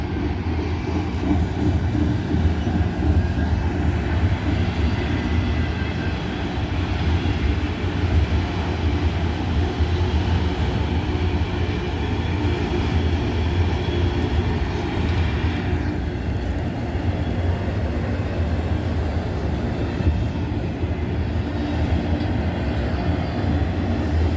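Freight train with auto rack cars rolling through Abbeville, a loud continuous rumble and clatter of wheels on rails held steady throughout as the cars pass close by, no talking.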